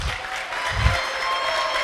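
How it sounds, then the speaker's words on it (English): Audience clapping for a presidential nomination candidate, a short, fairly soft patter of applause with a low thump partway through. "You can clap for your candidate."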